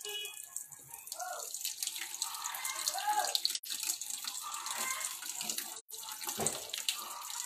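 Tap water runs strongly into a sink, a continuous bright splashing gush with shifting gurgles, close and steady, with a couple of brief interruptions and faint voices in the background.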